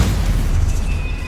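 A Confringo blasting spell detonates in Hogwarts Legacy with a loud, close, booming burst that rumbles on briefly before fading.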